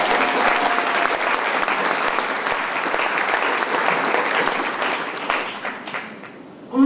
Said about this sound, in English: I think we all deserve a round of applause